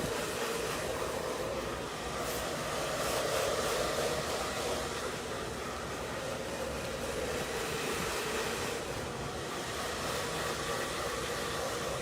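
A hair dryer fitted with a diffuser blows loose cut hair bits out of a short pixie cut, a steady close whooshing airflow running unbroken and fairly loud throughout.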